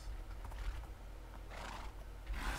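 A horse neighs in Minecraft 1.8.8, a short game whinny rising over steady background noise, with a second brighter burst near the end.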